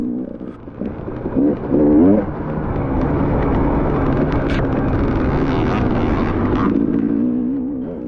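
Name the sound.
dirt bike number 88 riding past in hare scramble race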